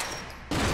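A gunshot bursts from a firefight in the video game Quantum Break, cutting in sharply and loudly after a dense, hissing burst of gunfire, and no one speaks.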